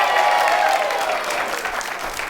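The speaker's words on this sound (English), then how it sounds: "You can clap for yourselves." A TV talk show studio audience claps for a visiting tour group. The applause is steady and close, about two seconds long, and eases slightly toward the end.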